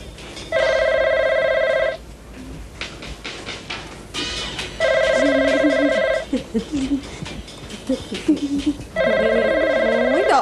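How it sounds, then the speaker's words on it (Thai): A telephone rings three times in an electronic trilling pattern, each ring lasting about a second and a half, with people talking in the gaps between rings. "นี่รับโทรศัพท์แต่มันหน้าที่ของแกนะไปรับเดี๋ยวนี้"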